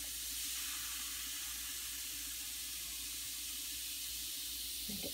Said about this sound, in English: Do you hear that bubbling? That fizzing?